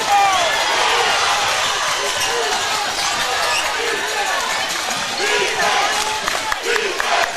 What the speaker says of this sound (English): Now the crowd is alive.